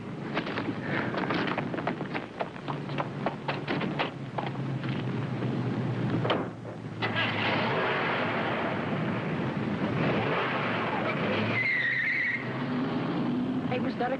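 A car drives off in an early-1960s television crime drama, its engine noise running loud and continuous under dialogue and background score, with a brief lull midway before the motor sound resumes.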